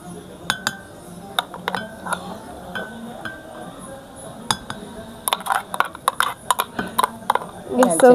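Metal utensils clink repeatedly while creamy chutney is poured during chili bajji preparation, with quick bright taps in an irregular rhythm that grow busier toward the end, and a voice speaks in the background.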